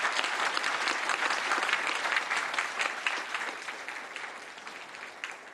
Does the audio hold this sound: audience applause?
yes